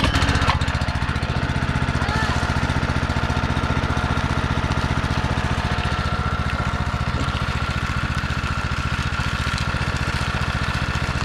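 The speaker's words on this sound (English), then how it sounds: "we're going to start the pump up" A small water pump engine runs beside an off-grid pond, a loud, steady, rapidly chugging motor drone that holds constant throughout at close range, with no talk over it.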